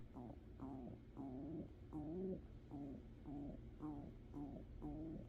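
Pigeons cooing in a steady repeating series of soft, throaty calls, close and clear, with each coo rising and falling in pitch over a low background hum.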